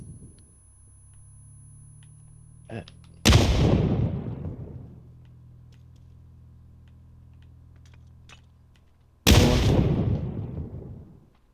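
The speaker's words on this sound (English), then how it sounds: "Grenade." Two loud grenade blasts in a PUBG battle royale match, the first near four seconds and the second near nine, each a sharp boom that rolls off into a long fading rumble over a low steady background hum.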